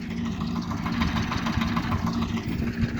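A tractor engine idles steadily nearby in a wheat field with a low, throbbing rumble and a faint knocking rhythm, continuous throughout with no voices.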